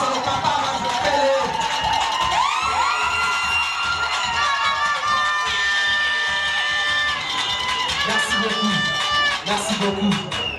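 At a wedding celebration, a crowd cheers, whoops and shouts for a music group, a loud, dense wash of voices with high, sustained calls rising over it.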